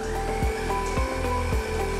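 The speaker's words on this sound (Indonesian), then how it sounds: "Saya menggunakan hand mixer di sini." A hand mixer whirs steadily as it beats margarine in a bowl, a loud, close motor drone with regular rhythmic thumps as the beaters turn, and no talking.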